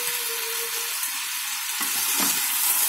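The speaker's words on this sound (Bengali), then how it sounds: "আলুটা কিছুক্ষণ নাড়াচাড়া করে, এটা একদম দাগ দাগ করে না ভাজলেও চলবে" Potatoes and green peas fry in a pan with a steady, dense sizzle, and a spoon stirs through them now and then, all close up with no voices.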